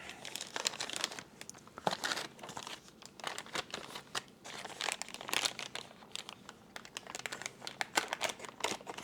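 Dull cardboard scissors hack into plastic and cardboard packaging, a close, quiet stream of irregular crinkling, snipping and crunching with no talk.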